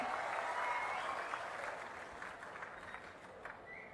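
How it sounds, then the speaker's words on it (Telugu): An audience at a Telugu public address claps loudly on cue, a dense burst of applause that gradually tapers off, with a voice faintly present underneath. "గట్టిగా చప్పట్లు కొట్టి వాళ్ళని కూడా మీరు అభినందించాలి"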